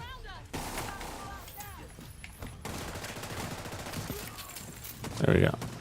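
A pistol fires repeatedly in The Division 2, sharp shots mixed into a noisy firefight with other gunfire around, with someone talking over the combat.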